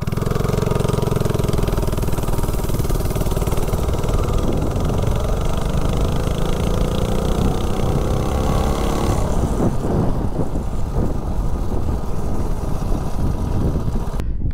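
Small mini bike engine running without a head gasket, a loud, close, continuous buzzing drone that revs up and down before settling, with no talking.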